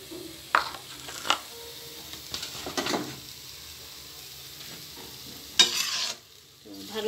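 Chilli, coriander and cumin powders are stirred into potatoes frying in a pot. Soft sizzling runs under a few sharp scrapes and knocks of the spoon, with quiet stretches in between.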